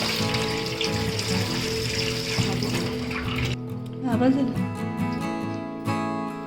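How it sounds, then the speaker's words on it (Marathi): Water is poured off soaked rice in a steady splashing stream for a few seconds, then stops, with background music playing throughout. "वरचं पाणी ओतून द्यायचं."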